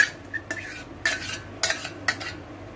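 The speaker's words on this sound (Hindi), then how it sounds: "लगातार चलाते हुए हम पका लेते हैं।" Gram-flour batter for khandvi cooks in a pan while being stirred continuously, producing several brisk scraping strokes of a utensil against the metal with no talking.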